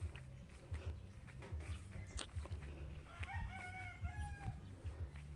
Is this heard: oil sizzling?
no